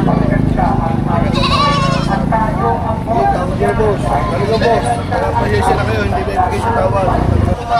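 Three goats for sale at a Philippine livestock market bleat repeatedly and loudly, overlapping amid steady crowd chatter and bargaining voices.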